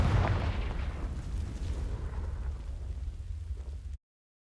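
A Confringo fire spell from Hogwarts Legacy sets dry vines alight with a loud, deep explosive boom that rolls into a heavy, sustained rumble for about four seconds before cutting off abruptly.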